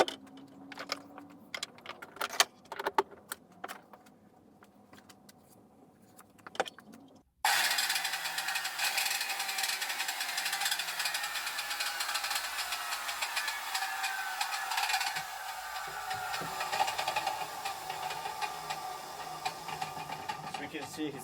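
A restored circular saw fitted with a new blade starts abruptly after several seconds of faint handling noises, then runs as a loud, steady, hissing whine right to the end.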